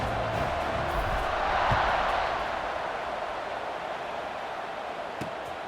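A stadium crowd in the College Football 26 video game, with Pitt playing Wake Forest, keeps up a broad, steady roar of cheering that swells briefly and then settles at a constant level.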